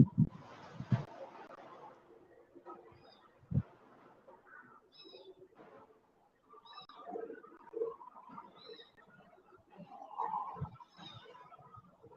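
Kite perched in an old tree giving faint, short calls at intervals amid soft rustling and low background noise, fairly distant.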